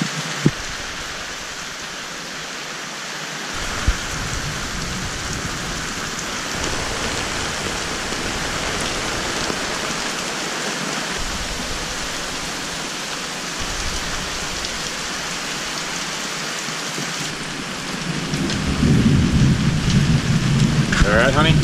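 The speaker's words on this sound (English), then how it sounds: "We are in a lightning storm." Heavy rain pours down steadily in a thunderstorm aboard a sailboat at sea off Turks and Caicos, a dense close hiss with low thunder rumbling in and a heavier surge near the end.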